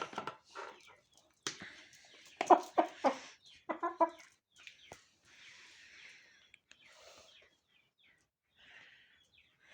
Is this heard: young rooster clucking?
yes